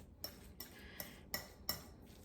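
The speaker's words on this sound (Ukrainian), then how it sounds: "І все це гарненько перемішаю виделочкою." A fork clinks against a bowl while mixing cookie dough ingredients with a pinch of salt, five sharp separate taps spread over a couple of seconds, close and fairly quiet.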